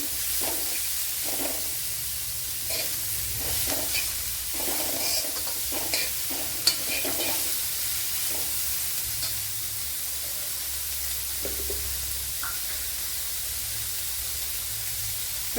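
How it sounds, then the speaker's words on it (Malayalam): Chopped ingredients sautéed with salt in a pan for a soya chunks dish give a steady close sizzle and hiss, with scattered scraping stirs and one sharp clink partway through. "ഇത് പെട്ടെന്ന് വഴണ്ടി കിട്ടാൻ കരുതി ഞാൻ ഉപ്പ് കൂടെ ഇട്ട് കൊടുത്തിട്ടുണ്ട്."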